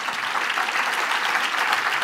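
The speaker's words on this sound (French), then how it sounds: "Eva Doumbia, que vous pouvez applaudir," A seated audience at a talk on decolonising the arts claps warmly, a dense, even patter of many hands that stays steady for a couple of seconds.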